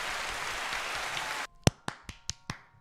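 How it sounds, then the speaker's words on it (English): Applause from a small group on a podcast, a dense wash of clapping for about a second and a half, then several sharp separate claps in a loose rhythm close by. "Round of applause for Kyrie Beast"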